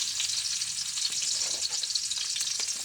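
Ginger and garlic sauté in a pan for a beef tongue and offal paksiw, giving a steady, close hiss of frying with faint scraping of stirring and no voices.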